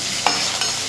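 Sliced onion sautéed with whole spices in a pan for vegetable biryani, a steady close sizzle and frying hiss with two brief scrapes of a stirring spoon.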